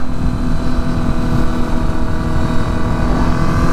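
Another quad bike (ATV) passing by outdoors, a loud continuous engine roar with heavy wind rumble and no talk.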